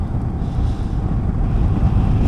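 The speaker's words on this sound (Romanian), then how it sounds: "bate un vânt extraordinar de tare" Strong mountain wind roars and buffets the microphone in a steady, low rumble with no voices, at the Obertauern ski resort in Austria.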